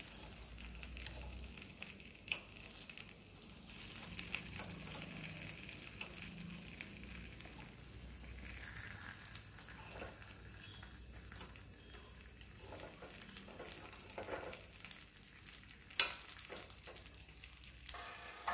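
Healthy breakfast pieces fry in a pan after being flipped, giving a soft, steady sizzle close by with occasional light clinks and scrapes from stirring.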